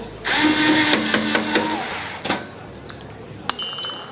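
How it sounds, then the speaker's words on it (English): Allen key screws being backed out of an espresso machine panel, giving a run of close metallic clicks and ratcheting ticks, then a few sharp clinks of metal parts being set down. "So let's remove the 4 screws."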